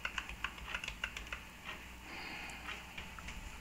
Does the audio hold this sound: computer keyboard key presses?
yes